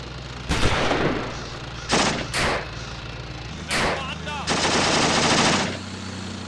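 Gunfire from the World War II strategy game Achtung Panzer Operation Star comes in loud, close bursts of machine-gun rattle and single shots, separated by short gaps.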